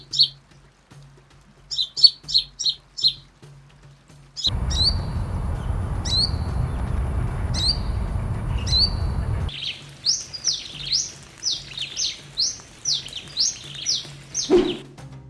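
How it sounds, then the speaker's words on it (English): Brown-throated sunbird singing in trees: bursts of high, shrill, rapid chirps and descending whistled notes, fast in tempo, with a stretch of broad rustling noise in the middle before the quick calls resume. "Birds categorized as least concern on the IUCN list have a high-pitched voice that sounds shrill."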